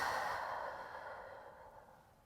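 One long, slow exhale from a deep breath at the close of a low-impact workout stretch, fairly soft and close, fading gradually with no talking.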